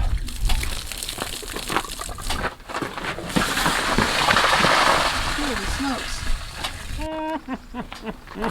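Water gushes out of the opened bottom of a tank in a broad, steady rush that swells and then eases. People talk and exclaim over the splashing.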